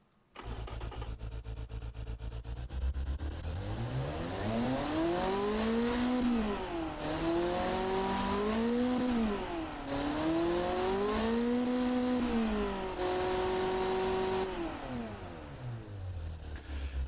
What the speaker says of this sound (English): What would our V8 supercar sound like?